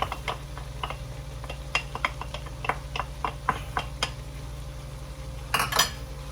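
A spoon stirs chicken liver sisig with carrots in a pan, giving irregular clinks and taps of utensil on metal over a steady low kitchen hum.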